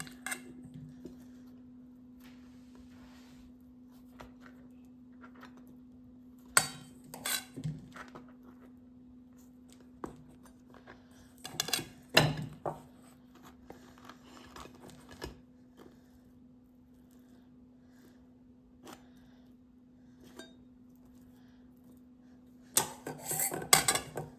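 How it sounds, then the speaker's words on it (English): Quiet scraping and rubbing of a knife spreading garlic butter across bread loaves in short scattered bursts, with occasional light clinks, over a steady low hum. "we're gonna start putting the garlic butter on our bread loaves"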